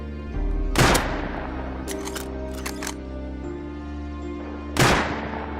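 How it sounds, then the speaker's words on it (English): Bolt action rifle shots in the video game Rust, two sharp loud cracks several seconds apart over a steady humming game background. "Next up is the bolt action rifle, which is basically the sniper rifle of the game, best used for long range targets."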